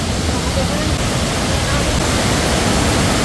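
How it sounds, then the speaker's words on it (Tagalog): Torc Waterfall in Killarney National Park, County Kerry, roaring as a steady, loud broadband rush of falling water close by, continuous and unbroken throughout. "Lakas ng tubig."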